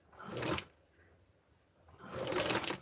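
A sewing machine stitching a Barbie dress runs in two short bursts of fast whirring, the first brief and the second longer, separated by a quiet pause.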